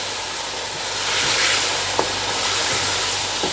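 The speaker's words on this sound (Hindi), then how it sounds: "अब इसको थोड़ा सा भून लेंगे इसमें ऑयल में।" Beef frying in oil in a pot for yakhni pulao, giving a strong steady hiss and sizzle with a couple of soft stirring knocks, close and loud with no talk.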